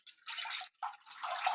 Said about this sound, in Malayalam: ആ ചട്ടിയിലേക്ക് ഈ കുതിർത്ത് വെച്ച പുളി വെള്ളം ഒഴിച്ചു കൊടുക്കാം.